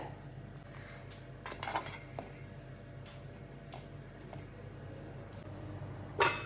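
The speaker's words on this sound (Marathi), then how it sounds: "आता आपण कुकीजची प्लेट याच्यावर ठेवूया" Quiet kitchen ambience with a few metallic clinks and taps, ending in a sharper clank as a metal cookie plate is set down on a stand inside a kadai.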